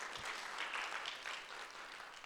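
A small audience at a housing talk claps faintly and briefly. The scattered applause sounds distant and thin throughout.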